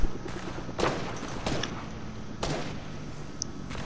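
Gunshots in the video game Fortnite, several sharp isolated cracks spaced about a second apart, fairly faint and distant over low background noise.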